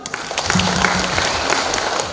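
An audience applauds at a New Year gala held by an arts academy in New York, with steady, dense clapping that lasts throughout at a moderately loud level.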